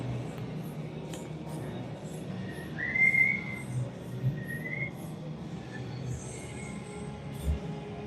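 A referee's whistle at a youth ice hockey game in an arena, a few short, shrill blasts at a distance, heard over rink noise and a murmuring crowd.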